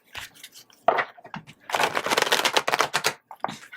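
Tarot cards are shuffled up close in quick riffling bursts, with short pauses between the crisp, papery flurries.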